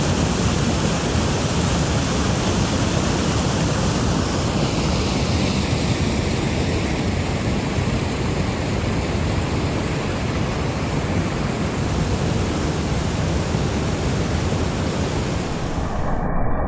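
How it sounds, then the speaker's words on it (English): Powerful water rushing down creeks through a canyon after a huge rainstorm, a loud continuous broadband roar that stays steady throughout with no voices. "seeing the powerful water flowing down these creeks like we've never seen before"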